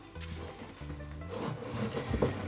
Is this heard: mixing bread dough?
yes